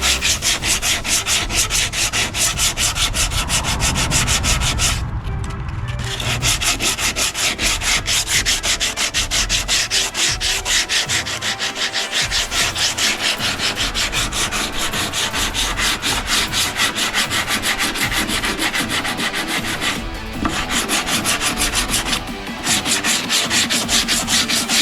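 Close, continuous sanding of a fiberglass repair, finishing and feathering the surface, a steady loud abrasive rubbing that runs almost unbroken with only a couple of brief pauses, no voices.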